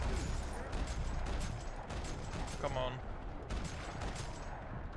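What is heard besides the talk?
gunfire in a parking lot in the video game Max Payne 3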